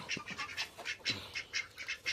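Several ducks quack repeatedly in a quick, chattering series, close by and fairly loud, with no speech.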